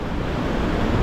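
Powerful surf pounds the shore at high tide on Florida's Emerald Coast, a steady broadband wash of breaking waves mixed with wind buffeting the microphone, continuous and close.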